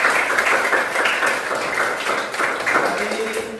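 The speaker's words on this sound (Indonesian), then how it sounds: "Tepuk tangan untuk kita semua." A classroom of students claps for the whole class after group presentations, a dense steady patter of hands at moderate loudness lasting several seconds, with faint murmurs beneath.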